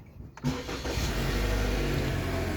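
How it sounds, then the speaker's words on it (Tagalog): A Toyota RAV4 engine cranks and catches after a quiet moment, then settles into a steady, close idle rumble. "Tapos pagka inon mo yung sasakyan, ayan, start natin."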